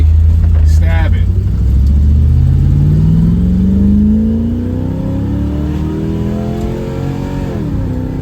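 A carbureted Chevrolet S10 on the power brake, its engine loud and close, revving up in a long rising sweep then settling and dipping, with a brief voice near the start.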